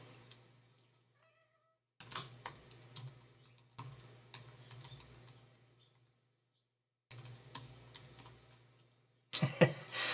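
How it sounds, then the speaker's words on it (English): Rapid clicking of a computer keyboard in bursts separated by short pauses, close and fairly quiet, with a faint steady hum beneath and a louder burst at the end. "So I'm just typing randomly at this point."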